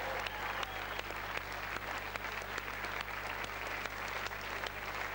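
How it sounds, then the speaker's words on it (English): A game show studio audience applauds steadily and continuously, a dense even patter of many hands filling the whole stretch with no talk over it. "Give her a round of applause, Madeline."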